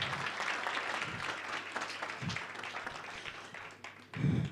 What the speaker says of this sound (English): We can do better with a round of applause for the Deputy Minister